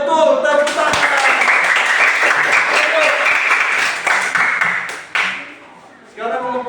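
A classroom group applauds after a correct answer: dense, loud, close clapping for about five seconds that thins out, then a voice speaks.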